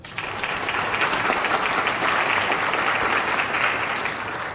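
A convocation audience gives faculty a big round of applause, a dense, steady wash of many hands clapping at once, sustained and even throughout.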